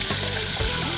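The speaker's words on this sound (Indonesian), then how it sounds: "Tinggal tiriskan dan langsung tumis bumbu balado ala si Teteh" Balado chili spice paste with garlic sautéing in a pan, a close, steady frying sizzle with faint scraping and clatter throughout.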